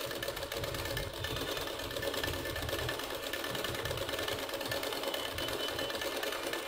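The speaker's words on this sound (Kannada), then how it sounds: "ಈ ಥರ ಮಾಡಿಸಿ ಹಿಂಗೆ ಸ್ಟಿಚ್ಚನ್ನು ಮಾಡಿಬಿಡಿ" A sewing machine runs steadily, stitching a sleeve onto a readymade dress. Its close, continuous motor whir and needle chatter fill the whole stretch without speech.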